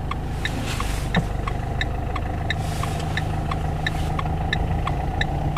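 A car engine idles and hums at mid pitch during a hill start on a driving test. A steady rhythmic ticking, like a turn indicator, clicks over the low rumble the whole time.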